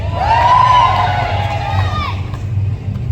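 A crowd cheers, shouts and whoops in response at a Deadpool Christmas Carol storytime event, loud and close, with one high voice rising above before the noise settles into murmuring.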